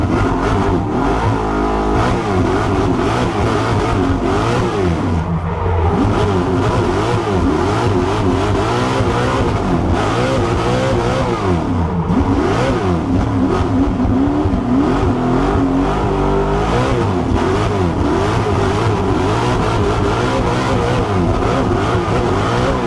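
A BMW fitted with a 632 big block engine accelerates hard, and its loud, rough, close engine roar climbs and surges repeatedly through the gears.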